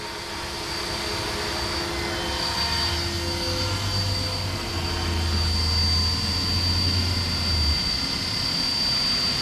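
A Blade 330s RC helicopter with a three-bladed head and metal swashplate flying nearby outdoors, giving a steady whining rotor and motor drone with a low hum that holds constant throughout.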